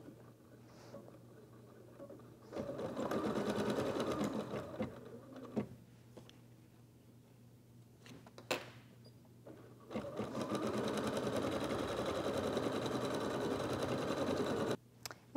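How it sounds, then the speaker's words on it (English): An embroidery machine sews a final stitch sequence, a steady rapid mechanical whirring and needle chatter that runs in two long stretches separated by quieter pauses, close and clear with a few sharp clicks. "we'll take it back to the embroidery machine. And we'll sew our final stitch sequence to finish our stitching"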